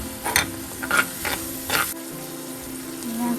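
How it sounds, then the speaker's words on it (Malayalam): Sliced green chilli, garlic, ginger and onion go into hot oil, giving a few sharp scraping stirs over a soft sizzle, then a quieter simmering hiss near the end, with no voices. "പച്ചമുളക് നീളത്തിലരിഞ്ഞത്, വെളുത്തുള്ളി, ഇഞ്ചി, ഇതെല്ലാം കൂടി നമുക്ക് നമ്മുടെ എണ്ണയിലോട്ട് ഇടാം."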